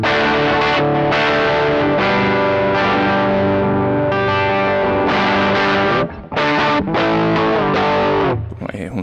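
An electric guitar, a Tokai LS140UF, is played through a Dr.J Planes Walker fuzz pedal and a Joyo American amp, giving a loud, continuously sustained distorted tone with a few brief gaps between chords.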